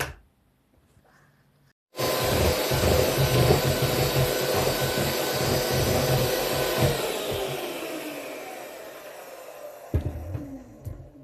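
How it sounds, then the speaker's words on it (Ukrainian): An electric mixer creams butter with sugar for shortbread dough, starting after a short quiet gap with a loud, steady whirring drone that slowly fades and winds down near the end. "Будемо використовувати міксер."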